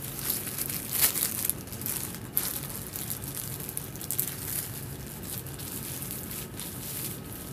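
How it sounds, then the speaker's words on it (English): Close plastic bag crinkling and rustling, soft irregular crackles with a few sharper bursts early on, continuing quietly with no talk. "Let's get the plastic bag."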